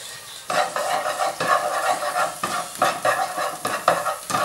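Onions stir-fry in a pan for a stuffed-pepper dish, with steady sizzling and repeated scraping stirs in an irregular rhythm, close and moderately loud, no voices.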